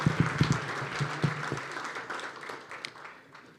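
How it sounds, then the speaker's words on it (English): An evening audience at a university diversity celebration claps for the night's performers in a short round of applause that mixes with a few low thumps early on, then thins and fades toward the end. "And one more round of applause for all the talent we've seen tonight."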